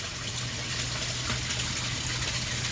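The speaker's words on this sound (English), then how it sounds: "Waterfall and the filter's on." Garden pond waterfall running with its filter on, a steady, full rushing gush of falling water with a low pump-like hum underneath, constant throughout and fairly close.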